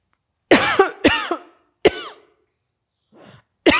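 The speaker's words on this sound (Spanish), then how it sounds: "Hoy les voy a mostrar de qué manera se tose cuando tengamos ganas de toser." Several sharp coughs close to the microphone, two in quick succession, then a third after a pause, followed by a faint breath and another cough starting.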